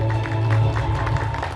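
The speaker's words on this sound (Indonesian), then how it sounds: "Tepuk tangan dulu untuk ketiga nominator tadi." An audience at a Catholic diocesan communications awards ceremony applauds three nominees, a dense burst of clapping and cheering with a steady hum underneath that fades slightly toward the end.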